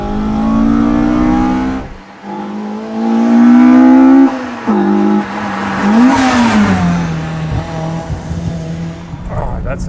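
Toyota 4AGE engine fitted with 50mm intake trumpets, revved in a higher-RPM pull through roughly 7,000–8,000 RPM; a loud, close, continuous rising intake howl with shifting pitch, brief dips between pulls.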